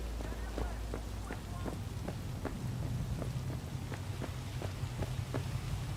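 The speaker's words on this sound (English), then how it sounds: "Pacifica in the rain." Rain falling in Pacifica in the video game Cyberpunk 2077, a steady hiss with faint, irregular taps and knocks, while a person talks over it.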